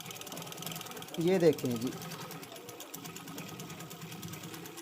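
A sewing machine runs a short burst of stitching through four folded layers of fabric, a brief whirring run under a voice speaking Hindi.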